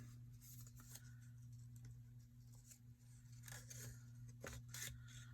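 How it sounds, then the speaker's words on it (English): Scissors snipping a piece of craft material in half, a few faint close snips and rustles over a low steady hum, no speech. "So I'm gonna cut it in half"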